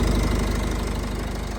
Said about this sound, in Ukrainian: послухайте, як рівненько працює мотор як годинник швейцарський